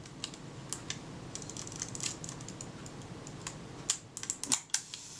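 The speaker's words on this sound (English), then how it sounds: "the cocking action of that shutter dropping into place as I was winding the film advance" Shutter of a Kodak Retina Ib camera, which has a faulty front door, gives light mechanical ticks while the film advance winds, then a few sharper, louder clicks near the end as the shutter cocks into place.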